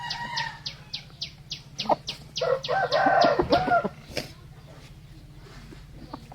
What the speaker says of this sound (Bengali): এটা পাহাড়ি বড় জাতের মুরগি।